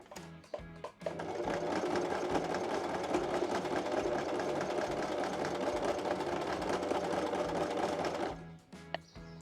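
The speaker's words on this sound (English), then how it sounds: "And I'm going to do a stitch so that it won't come out." A sewing machine stitches an apron strap in one continuous, steady mechanical whir lasting several seconds, framed by a few short clicks and handling sounds at the start and end.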